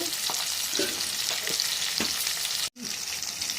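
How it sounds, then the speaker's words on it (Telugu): Tempering spices with onion, tomato and turmeric fry in a pan with a dense, steady sizzle, broken by rhythmic stirring scrapes and a brief silent gap near the end. No one speaks. "తాలింపు అంతా మంచిగా ఫ్రై చేసుకున్నాను"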